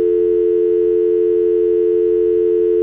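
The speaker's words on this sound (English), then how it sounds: "I'll hear the dial-up tone" A steady, unbroken telephone dial tone holds at one even pitch, clear and close, with nothing else heard.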